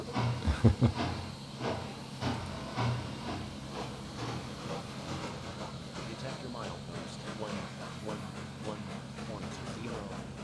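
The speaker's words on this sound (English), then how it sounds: "That is the sound of the Northern Pacific local reaching the top of Lookout Pass." A steady video game train rumble with rhythmic clanking and hiss, a Northern Pacific local reaching the top of Lookout Pass, a few louder thumps near the start, continuing evenly at moderate volume.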